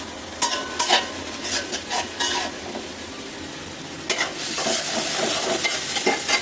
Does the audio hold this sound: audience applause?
no